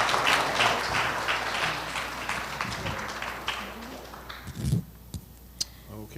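Audience applause for a university business team at a campus event, dense clapping that gradually thins out over several seconds, with a few voices mixed in.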